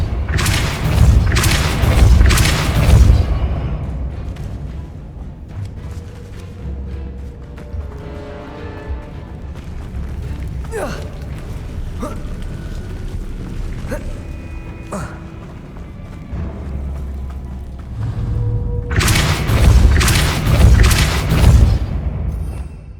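Depulso spell blasts in Hogwarts Legacy during a boss fight, heavy booming thuds bursting loudly at the start and again near the end, with clattering game effects and chiming tones between them.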